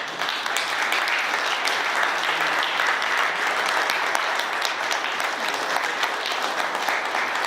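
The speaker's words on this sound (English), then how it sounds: "he deserves a round of applause for that" A room of attendees at a Kappa Alpha Psi alumni chapter Founders Day gathering gives a long round of applause. Close, steady clapping continues evenly for several seconds with only faint crowd murmur beneath.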